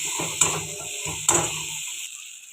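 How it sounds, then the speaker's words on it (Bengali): A spoon scrapes and stirs garlic paste, ginger paste, turmeric and salt in hot oil in a pan. The scrapes come in two sharp strokes over a steady sizzle, close up, with no voices. "ভালো করে নাড়তে হবে।"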